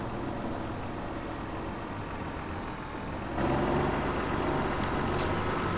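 A tractor in Farming Simulator 17 reverses a trailer into a farmyard, its engine droning steadily and growing louder and fuller partway through, with no talking.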